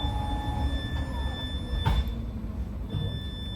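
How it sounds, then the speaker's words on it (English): Southbound Caltrain local train departing San Antonio station toward Mountain View, a steady low rumble of rolling wheels and carriage noise heard from inside, with faint tonal whines and a couple of brief clanks. "This is southbound local train 106 making all stops to San Jose Diridon."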